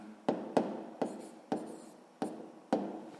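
Pen strokes on a notebook page while writing out ratios for a sixth-grade maths exercise: six crisp scratches land at roughly half-second intervals, close and clear, each trailing off briefly, with no voices.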